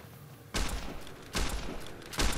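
Single pistol shots fired in Fallout New Vegas, three sharp bursts spaced under a second apart with short ringing decay, moderately loud with no talk.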